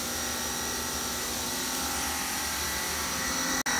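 A pressure washer pump motor driven through a router speed controller runs at high power, a steady close whine with a broad hiss of spraying mist, briefly cutting out near the end.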